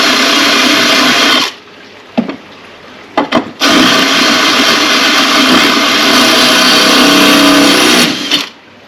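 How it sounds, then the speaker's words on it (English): A power drill grinds loudly into textured porcelain tile in two long sustained bursts separated by a brief pause with a few clicks, harsh and close throughout. "This takes a lot more drilling because of the texture on the surface."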